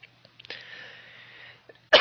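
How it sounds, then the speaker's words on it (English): One sharp, loud human cough bursts out at the very end after a near-silent stretch with only faint, soft background sounds. "As I'm dying of a cough."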